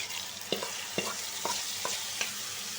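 Spice masala stirred and fried in a pan, with a spatula scraping in a steady rhythm of sharp strokes roughly every half second over a constant close sizzle.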